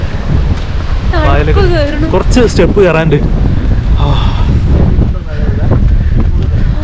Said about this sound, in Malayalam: നല്ല കാറ്റ് കാറ്റടിച്ചിട്ട് മേളിൽ നിന്ന് മണലൊക്കെ കണ്ണിലും